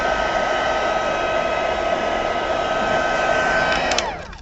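A heat gun blows steadily and loudly at close range while drying craft work, its whining hum holding for about four seconds before it winds down and cuts off.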